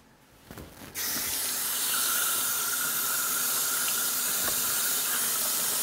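Bella mushrooms rinsed under a kitchen tap: the tap opens after a moment and a steady, loud hissing stream of running water continues close by.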